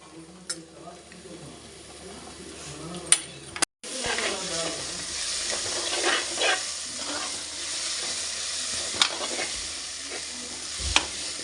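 Masala for butter chicken sautés in a pan, sizzling and hissing with spoon stirs and scrapes that come and go over about eleven seconds, briefly cut by a silent gap, with no voice heard.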